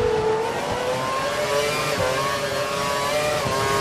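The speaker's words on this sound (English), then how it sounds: "Running on full revs" Formula 1 car engine from the F1 2012 racing video game screaming at full revs, a loud, steady high-pitched whine with layered harmonics holding constant throughout with no talk.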